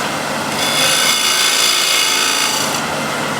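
A skew chisel undercuts a block of wood spinning on a lathe, making a loud, continuous shearing hiss that swells when the cut deepens and eases off near the end.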